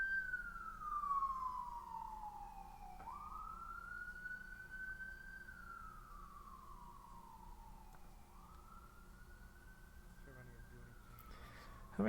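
Faint, distant emergency sirens drift in from outside, long slow wails that repeatedly rise and fall over quiet background traffic.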